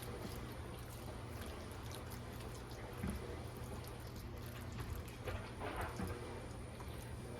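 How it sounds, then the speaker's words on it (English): A dishwasher runs in a home kitchen, a steady faint wash of spraying water with soft sloshing bursts, continuous and distant in the background. "Sorry if you hear my dishwasher in the background."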